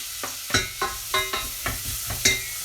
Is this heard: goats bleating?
no